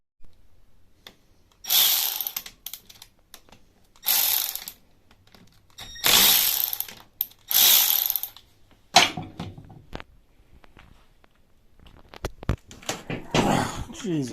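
Ratchet clicking in several loud, rapid bursts while loosening the fork clamps and top cap on a Suzuki DR650, with short pauses between runs and a few lighter mechanical clicks.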